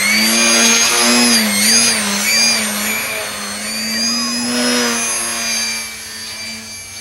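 Light electric foam RC airplane, an E-flite Eratix FF, flying overhead with a steady, loud high-pitched motor whine that rises and falls in pitch as it passes and maneuvers.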